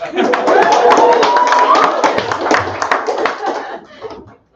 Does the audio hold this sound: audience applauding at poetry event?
yes